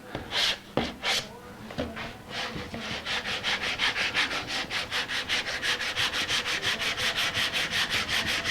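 Hand sanding strips the finish off the wooden body of a 1964 ES 335-style guitar, opening with a few slow scrapes and then settling into fast, even back-and-forth rasping strokes, close and clear.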